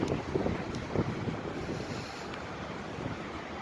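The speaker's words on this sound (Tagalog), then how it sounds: "Natumba sa sobrang lakas ng hangin." Strong wind buffets the microphone in a continuous loud roar, gusting hardest at the start and then settling into a steady rush.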